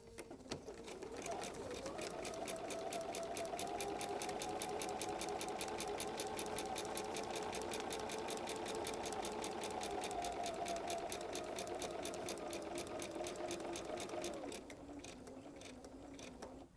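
Sewing machine running a steady, fast stitch at a short 1.5 stitch length with the needle-down setting engaged, a continuous close-up mechanical whir with rapid rhythmic ticking that holds for about thirteen seconds before slowing and stopping.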